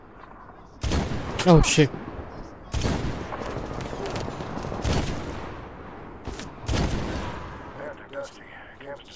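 Gunfire in the Medal of Honor video game, several loud close blasts and bursts ringing out and fading between them, with a man swearing briefly near the start.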